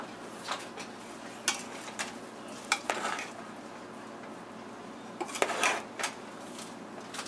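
Cooked Dindigul Thalapakatti-style mushroom biryani is stirred in a pot, giving quiet, intermittent scrapes and soft clinks of a utensil against the pot over a faint background.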